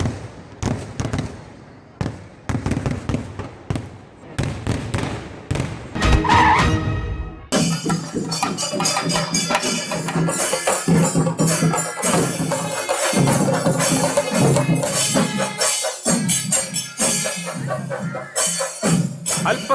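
Competitive festival fireworks between two rival teams from the south and north banks: scattered sharp bangs at first, then a dense, continuous barrage of loud explosions and crackling from about the midpoint onward.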